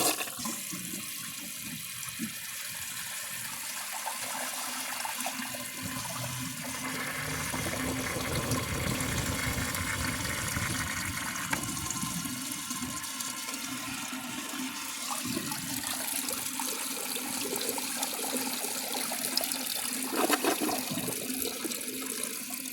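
A 1981 Briggs Conserver toilet flushing: a loud, sustained rush and swirl of water lasting over twenty seconds, then refilling, close up with no talking.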